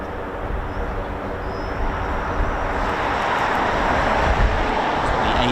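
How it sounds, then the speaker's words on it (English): A C-5 Super Galaxy military transport aircraft at RAF Mildenhall gives a broad, steady engine roar that swells slightly over several seconds, with low rumble and no voices. "The C-5 Super Galaxy."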